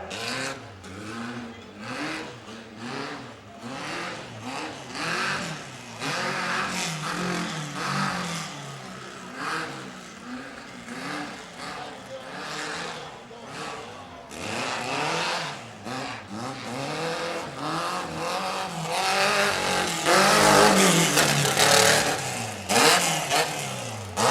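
A rough truck tears around a dirt track at a county fair, its engine revving and surging hard with repeated throttle bursts and shifts, loud and close, growing into a roaring climax near the end.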